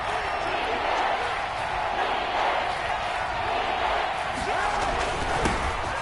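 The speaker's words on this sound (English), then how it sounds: "this crowd gets out making some noise" Stadium crowd noise from a PS4 football game, Ravens versus Texans in a divisional-round playoff, making a constant roaring wash of cheering that runs throughout with speech-like sound mixed in.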